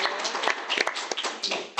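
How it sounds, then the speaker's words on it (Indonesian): Scattered hand clapping from a small group at a casual coffee-shop hangout in Indonesia, steady and fairly close, with a few sharper individual claps standing out and faint voices underneath. "Siap tepuk tangan dong."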